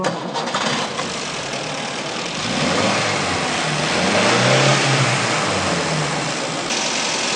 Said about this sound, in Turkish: Bir çalışalım arabayı